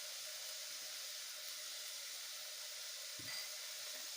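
Vegetables seasoned with salt and turmeric fry in a pan for coconut-milk veg pulao, giving off a steady, soft sizzling hiss with one brief dull knock near the end.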